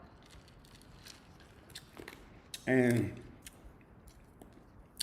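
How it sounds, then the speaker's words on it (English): Ice being chewed close to the mouth, a short loud crunching burst of about half a second amid quiet background, with a brief spoken word earlier. "I'm chewing ice."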